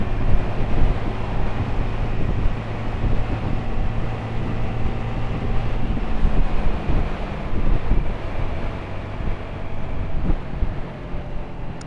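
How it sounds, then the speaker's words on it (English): Steady wind buffets the microphone while riding a Honda Navi scooter through Louisville after a wind storm, giving a continuous loud low rumble with gusty fluctuations and no voices. "It's a bit windy today"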